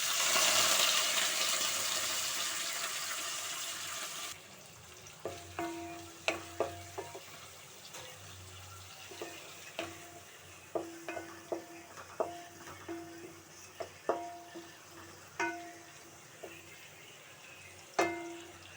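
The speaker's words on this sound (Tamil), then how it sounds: "இப்போ வந்து வெங்காயம் நல்லா வதங்கட்டும்" Chopped onions hit hot oil in a pan with a loud, hissing sizzle that settles quickly. A spatula then scrapes and clinks against the pan in irregular, close-up strokes over a quieter, steady frying hiss.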